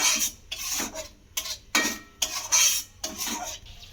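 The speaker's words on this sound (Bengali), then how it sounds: "টক দই দিয়েও খুব ভালো করে এবারে মশলাটাকে আবারও আমি কষাতে থাকবো" Thick spice paste with sour yogurt being stirred and fried in a pan for an Afghani egg curry, a spoon scraping the pan in repeated rhythmic strokes, close and clear, with no talking.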